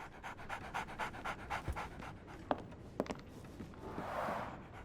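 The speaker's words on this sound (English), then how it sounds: "So, Barnes has a dog now." A dog pants in rapid rhythmic breaths inside the video game Sherlock Holmes: The Awakened, close and steady, with a few soft thumps and a brief rustle toward the end, no voices.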